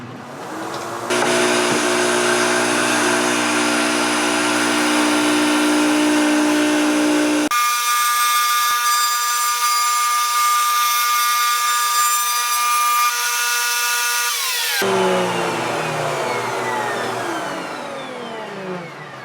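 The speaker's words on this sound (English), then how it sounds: "we're also going to try to round over each individual hole with this 1/8 inch round over bit" A wood router fitted with a 1/8 inch round-over bit whines loudly and steadily for nearly the whole stretch, its pitch shifting midway as it cuts and eases the edges of holes in a wooden essential oil carousel, then winds down at the end.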